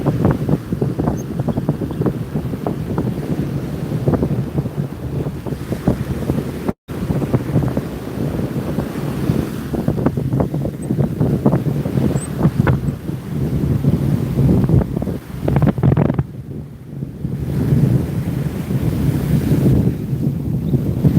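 Surf rolls in and wind buffets the microphone on a beach during surf fishing, a loud, continuous roar of breaking waves with no talk.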